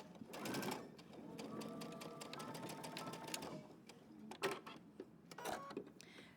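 A sewing machine back stitches in a short run of fast whirring, followed by quieter clicks and a few isolated taps. The sound is faint overall.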